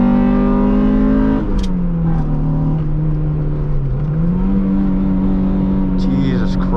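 Honda Integra engine bogging and misfiring during a mountain touge run, a loud droning hum that dips in pitch and stumbles, with brief bursts of engine noise layered over it.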